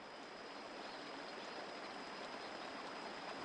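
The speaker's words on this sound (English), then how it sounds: "The name of the waterfall is Jimbar Waterfall." The 800-metre Jimbar Waterfall in Ethiopia's Simien Mountains roars as a steady, unbroken rush of falling water, heard continuously from a moderate distance with no voices.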